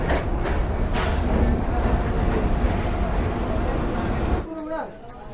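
Loud continuous rumble and rattle of a moving train between Kolkata and Daringbadi, Odisha, wheels clattering on the rails, fading toward the end as a voice speaks.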